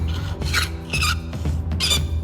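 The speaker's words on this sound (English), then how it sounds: "and then I file in at that same angle" A hand file cutting angled saw teeth into metal, three rough rasping strokes back and forth, loud and close with nothing else heard.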